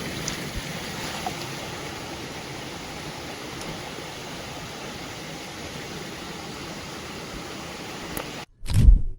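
Steady broadband rush of water flowing through a forest, like a waterfall heard close by, continuous and fairly loud for most of the stretch before cutting off abruptly near the end, followed by a brief low thump.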